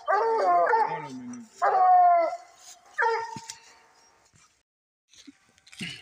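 Hunting dogs on a coon hunt in Louisiana bay and howl in a few drawn-out bursts, close and loud at first, then trailing off into quiet with a faint bark near the end.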